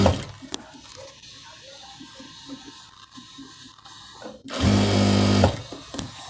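A sewing machine stitches elastic onto fabric, with soft handling noises first and then a loud, close, steady mechanical whir of needle strokes for about a second before stopping.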